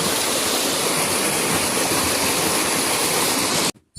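Steady, loud roar of the Shimili waterfall rushing down without a break, a dense wall of falling water heard alone, cutting off abruptly at the very end.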